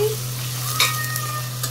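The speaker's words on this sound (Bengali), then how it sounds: "এই যে পেঁয়াজগুলো ভাজতে দিয়ে দিয়েছি।" Onions frying in a pan for a chicken curry: a continuous soft sizzle over a low steady hum, with a brief scrape of stirring partway through and no voices.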